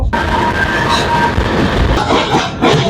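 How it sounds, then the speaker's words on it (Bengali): The Ekota Express pulls out of Kamalapur railway station in Dhaka, bound for Panchagarh, heard from on board as a loud, continuous rumble with rattling wagon noise and no one talking. "আমাদের ট্রেনটি কমলাপুর রেলওয়ে স্টেশন থেকে ছেড়ে দিয়েছে"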